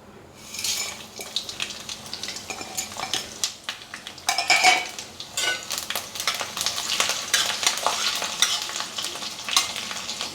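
Whole spices crackling and sizzling in hot oil in an iron kadai during tempering for a carrot and fresh coconut fry, with steady close spitting, bursts of popping and occasional scrapes of a stirring spoon against the pan.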